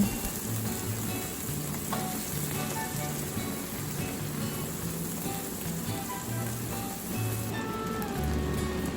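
Pork chops sear in hot oil in a pan for honey garlic pork chops, giving a steady, dense sizzle that crackles continuously for the whole stretch, close and loud with no voices.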